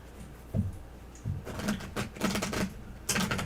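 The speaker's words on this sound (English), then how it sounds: "I'm shuffling. I was going to cut them." Tarot cards are shuffled by hand in quick bursts of soft riffling and slapping, with short pauses between the bursts, close and moderately loud with no talking.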